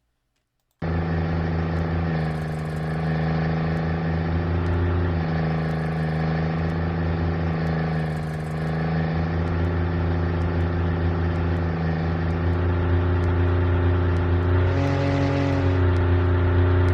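A synthesized car engine built in Unreal MetaSound drones steadily with a rich harmonic hum, shifting in pitch as it moves from medium toward high RPM, loud and continuous throughout.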